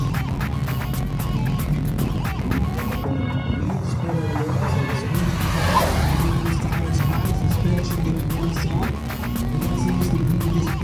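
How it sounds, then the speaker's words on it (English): A Mitsubishi Mirage runs a slalom course at a competition, its engine droning steadily and loudly up close while tires squeal through the turns, with some voices underneath. "We're going to drive number 18 in the Mitsubishi Mirage."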